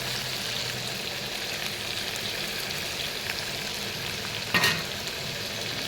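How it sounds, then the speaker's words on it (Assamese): Fish frying in a pan over a low flame, an even crackling sizzle that holds steady, broken once by a brief knock of a spatula or lid. "প্ৰথমতে মাছখিনি ভাজি ল'ম, কম জুইতে ভাজি ল'ম।"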